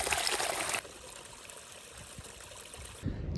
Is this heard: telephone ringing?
no